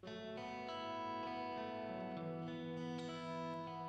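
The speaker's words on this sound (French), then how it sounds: "Donc, je vous fais écouter que les reverbs." Guitar track through Soundtrap reverb effects heard alone: sustained, shimmering chordal tones with long wet tails, layered and smeared, with a few soft attacks from new notes, steady and moderately quiet.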